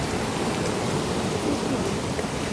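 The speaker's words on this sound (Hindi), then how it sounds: "उसके बाद लग गई यहाँ पर भयानक वाली बारिश" Heavy rain pours in the mountains, a dense, steady hiss and roar of water with no pauses, loud and close throughout.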